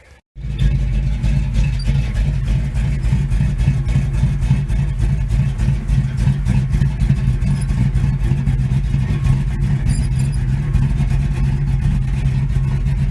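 A 1971 Chevy C10 pickup truck engine runs steadily and loudly close by while driving, a deep continuous rumble with a slight clatter that starts abruptly after a brief quiet moment.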